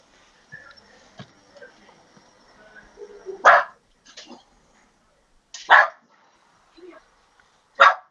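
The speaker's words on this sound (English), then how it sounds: "There's dogs here" Several dogs bark from a house in a quiet setting, a few loud separate barks spaced several seconds apart with faint yips and soft thuds between them.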